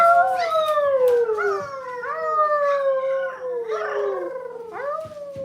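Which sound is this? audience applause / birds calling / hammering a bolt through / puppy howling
puppy howling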